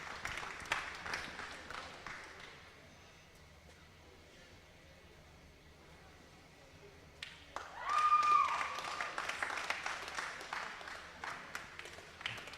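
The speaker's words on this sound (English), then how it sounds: "let's give these kids a big round of applause" Crowd applause in the show arena at the Nebraska State Fair FFA weekend, faint and distant at first, then swelling into louder clapping partway through.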